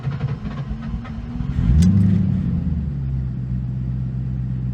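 A Ford Mustang engine cranks over in the rain and catches with a loud surge, then drops into a steady, low, rumbling idle close by; no one speaks.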